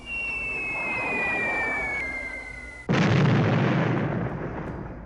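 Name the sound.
B-17 bombers dropping bombs, explosions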